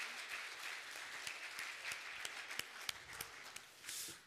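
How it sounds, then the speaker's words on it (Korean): A church congregation applauds at a Sunday baptism service, a steady broadband clapping wash of many hands with a few sharper individual claps standing out, moderately loud and continuous throughout. "우리 한번 큰 박수로 우리 내려가실 때 격려해 주시면 되겠습니다."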